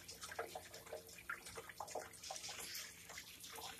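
Filtered water runs and trickles through trays of spring seedlings, a steady close splashing wash with faint dripping over almost four seconds and no talking.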